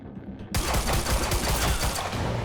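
Gunfire in the shooter game Quantum Break starts abruptly after a brief lull and becomes a loud, rapid rattling burst of automatic shots that keeps going to the end.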